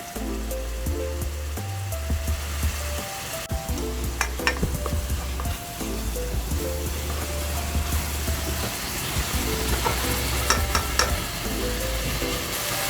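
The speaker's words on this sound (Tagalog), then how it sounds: "lagay na natin yung ating pork cubes" Pork cubes sizzle and spatter steadily in a hot pan while a spoon stirs and scrapes through them, with a continuous close frying hiss and no talking.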